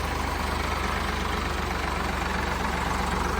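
A Ford 3600 tractor engine chugs steadily at idle while running a water pump, a low, even throbbing drone that holds constant with no talk.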